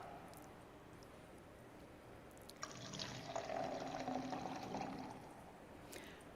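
Water poured into a glass, a soft splashing fill of a few seconds that rises in pitch as it goes, faint and close against quiet room tone, without talk.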